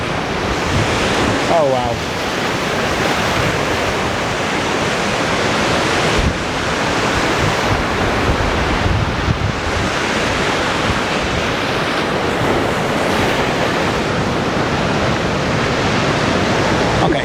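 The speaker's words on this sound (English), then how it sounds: "What a massive waves." Massive storm waves crash and roar on Levante Beach in Benidorm under extreme wind, a continuous loud surf wash with heavy microphone buffeting throughout; a voice briefly exclaims early on.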